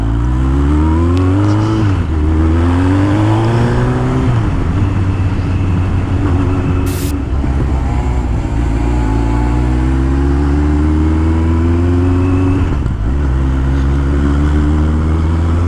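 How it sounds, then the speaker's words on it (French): A loud car engine revs hard, climbing in pitch through several gear changes, roaring close by for a sustained stretch. "Attention, on a de la voiture de course."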